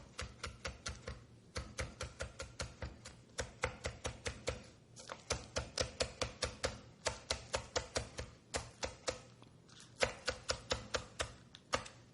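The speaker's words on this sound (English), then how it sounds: "I always like to split my green onions down the middle." A knife chops green onions on a cutting board in quick rhythmic bursts of sharp taps, pausing briefly between runs of strokes, close and clear with no voices.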